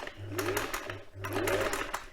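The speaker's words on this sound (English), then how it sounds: "So I'm sewing on the line and making sure that it's all nice and flat as I'm sewing." A domestic sewing machine stitches slowly across a quilt cover, giving two close, even bursts of motor hum and needle clatter separated by a short pause.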